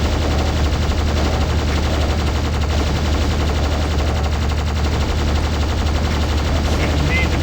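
Enemy gunfire in Doom pours out as a steady, dense rattle of rapid shots across the whole stretch, loud and continuous over a constant game din, with a voice talking.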